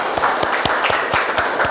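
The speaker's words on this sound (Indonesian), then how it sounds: "Aplaus sekali lagi untuk kita semua" Audience applause for students at a school event, a short burst of dense clapping from a group, steady and fairly loud throughout.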